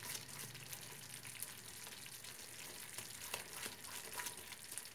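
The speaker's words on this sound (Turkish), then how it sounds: "iyice böyle hava kabarcıkları çıkacak şekilde gelesiye kadar kavuruyoruz." Flour roasting in butter in a pan for Turkish cheese helva gives a quiet, steady sizzle with soft crackles and a few light scrapes of stirring.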